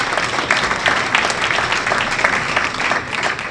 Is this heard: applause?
yes